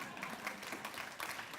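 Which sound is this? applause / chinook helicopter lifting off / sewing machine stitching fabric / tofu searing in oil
applause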